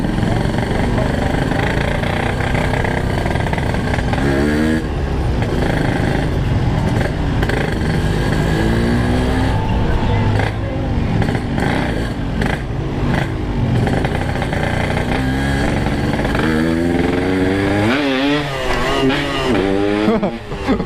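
Yamaha RX King two-stroke motorcycle fitted with a Boban C33 exhaust, revving loudly and continuously with a deep, raspy tone, rising and falling through repeated throttle blips, close by.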